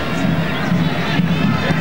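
A football stadium crowd at an Ireland versus Argentina friendly gives off a dense, continuous roar with chanting swelling and fading, loud and steady throughout, and no clear single voice standing out.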